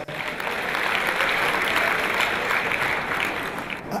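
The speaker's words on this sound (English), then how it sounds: "When I do well, I better want to clap on myself" A live comedy show crowd breaks into steady, dense applause, loud and sustained for the whole stretch with some scattered voices mixed in.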